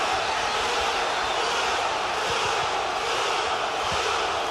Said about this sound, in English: Erik Morales gets a rise out of the crowd